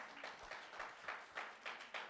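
Short bursts of congregation clapping at a church service, about seven rhythmic claps fairly close and moderately loud, with no voices over them.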